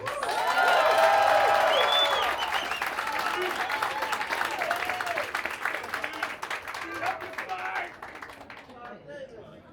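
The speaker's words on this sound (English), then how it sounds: "please help me with a big round of a Harlem applause to welcome Mr. Clive Davis" Warm audience applause with some cheering and voices at a Walk of Fame ceremony at the Apollo in Harlem, loud at first and then gradually thinning out.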